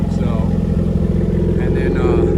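A 1981 Jeep CJ-7 engine idling down after the throttle is released, a loud steady low rumble with an even pulsing throb, close by, while someone talks over it.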